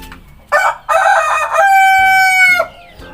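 A KUB chicken rooster crows loudly and close by, a long drawn-out call, with short bursts of clucking just before it and a brief cluck after.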